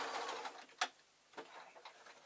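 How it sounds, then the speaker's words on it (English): Sewing machine stitching a single folded edge of fabric: soft quiet mechanical whirring with a couple of sharper clicks, faint and close, with no voices. "I'm going to fold that over, and I'm literally one single fold, and I'm going to run a line of stitches."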